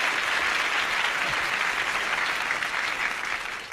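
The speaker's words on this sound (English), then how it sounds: "Applause, applause, applause for Marianne Henry and Mary Porter" Studio audience on a game show applauding two contestants, Marianne Henry and Mary Porter: a dense, steady wash of clapping from many hands, sustained throughout and tapering slightly at the end, with no talk over it.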